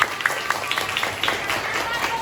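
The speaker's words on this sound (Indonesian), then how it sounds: "Oke, tepuk tangan ya." A class of pupils claps in a classroom, a quick rhythmic patter of hands that is fairly soft and busy, with some chatter mixed in.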